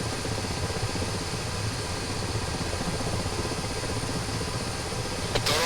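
A video-game helicopter drones steadily with a continuous engine and rotor hum, loud and even from start to finish, with no voices.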